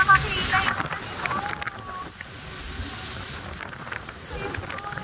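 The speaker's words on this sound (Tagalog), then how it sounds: "Ang lakas ng hangin." Strong wind buffets the microphone aboard a boat off Boracay, a steady broadband roar with gusty swells and water noise, while voices talk over it.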